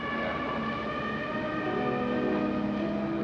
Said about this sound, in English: No music, no pretty romantic music, but sirens and boat horns and fog horns and nasty, awful stuff.